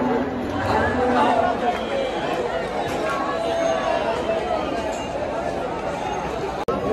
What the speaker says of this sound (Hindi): भीड़ देखो गाइस।